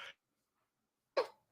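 Two short, separate coughs with a pause between, the second louder and sharper, close up in a quiet room.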